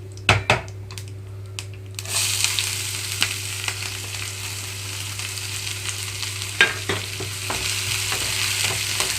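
Onions and green chillies fry in a pan over a low flame. After a few sharp utensil knocks, a steady close sizzle fills the rest, with occasional spoon taps and scrapes.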